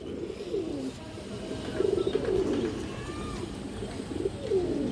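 Pigeons, including stone-eyed birds with a kajla gear pattern, coo steadily in a loft, with low repeated cooing phrases overlapping near and clear throughout.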